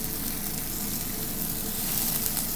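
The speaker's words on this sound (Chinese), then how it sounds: "有佢喺度煎一两分钟先" Chicken pieces frying with garlic in a pan for a Cantonese-style braise with bean curd sticks, a loud steady close sizzle that holds without pause throughout.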